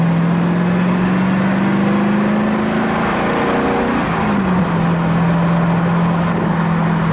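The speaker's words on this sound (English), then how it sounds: "The Rover V8 engine is very smooth" A smooth, steady Rover V8 engine in a 1999 HMC Healey MkIV hums continuously at idle, its pitch dipping briefly midway before settling again.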